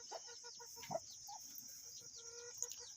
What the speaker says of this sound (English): Little Thelma, I can hear her squeaking all the way up on the porch a lot of times.